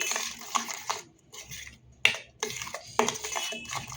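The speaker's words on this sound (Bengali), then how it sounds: "একটু ভালো করে মিশিয়ে নেব" A metal spoon scrapes and clinks in a bowl as tamarind chutney made with ground ginger is mixed, in close, irregular bursts of clatter with short pauses between them.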